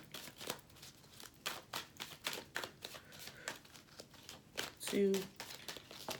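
Soft, rapid riffling and flicking of tarot cards repeats through the clip, quiet and close, with a voice speaking intermittently over it.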